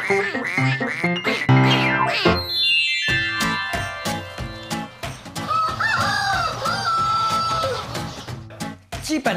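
A rooster crows loudly and close, a long rising call, amid clucking and calls from other chickens and fowl nearby, with a flurry of farmyard noise.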